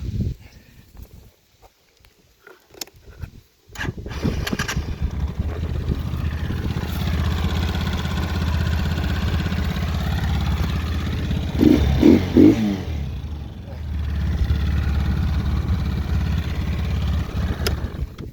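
A Hyundai motorcycle fitted with a new 200 cc Lachin-made engine starts after a few clicks and runs at a steady idle, with a brief rev midway, loud and close.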